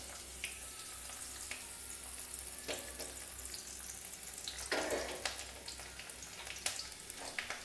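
Chopped garlic fries in oil for chilli paneer, a faint, steady sizzle with occasional soft scrapes and splutters, quiet and close with no talking.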